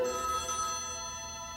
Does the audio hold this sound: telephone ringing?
yes